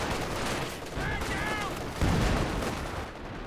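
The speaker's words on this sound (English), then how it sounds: "There we go, this barrage, big hit." Artillery barrage in the strategy game Company of Heroes 2, a dense wash of distant shell blasts and gunfire with a heavier impact thump midway, under faint voices.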